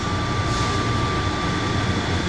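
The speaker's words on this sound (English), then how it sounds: "I'm aboard the plane train." Atlanta airport Plane Train moving away from a station, a steady, close rail rumble and whine filling the cabin without a break.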